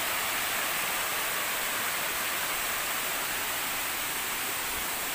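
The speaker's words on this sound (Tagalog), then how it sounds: "So ito yung pinaka bagsakan ng tubig pa ibaba." A constant, dense roar of falling water fills the air, steady and unbroken with no other sounds standing out.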